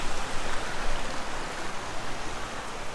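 A river rushing past in Pahalgam, Kashmir, in cold, drizzly weather: a loud, dense, continuous wash of flowing water heard up close with no voices.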